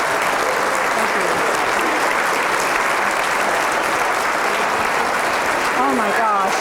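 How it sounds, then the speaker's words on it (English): Audience at a dark sky festival applauding a keynote speaker, dense sustained clapping filling the room from start to finish, with a few voices and cheers rising near the end. "Let's give one more round of applause to Dr. Birch"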